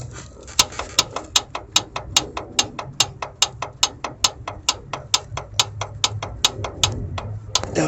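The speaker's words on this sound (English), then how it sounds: "for some reason it's making like a knocking sound" An engine with worn rod and cam bearings knocks in a fast, regular rhythm of sharp metallic taps, close and clear over a low running drone, with no speech.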